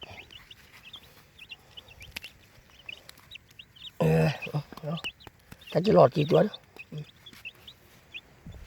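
Chickens cluck softly and intermittently in the background on a rural farm, with a few brief sharper calls, while someone speaks in short bursts in the middle and later.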